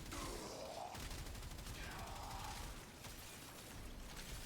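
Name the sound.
Reconifex weapon firing in video game Warframe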